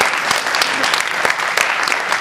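An audience at a Hindi comic poetry gathering breaks into steady, dense applause, loud and continuous throughout the short stretch.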